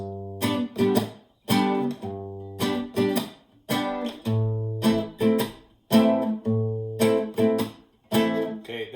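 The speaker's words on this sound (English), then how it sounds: "start practicing this chord progression and strumming pattern using the bar chords" An acoustic guitar strums full bar chords in a steady, rhythmic pattern, each strum ringing briefly before the next; no voices.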